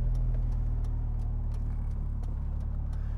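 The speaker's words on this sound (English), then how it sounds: "Exhaust note sounds a bit fruitier on this one." Idling turbocharged MG Maestro Turbo hatchback engine with a steady low exhaust burble and faint ticking, close and continuous, no talk over it.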